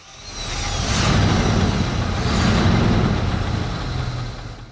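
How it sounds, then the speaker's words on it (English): A 1960s Rolls-Royce Silver Shadow engine turns over and settles into a steady, smooth idle, a broad low rumble with rising and falling swells, close and fairly loud. "it actually does sound very good, but that engine is the one thing of this car"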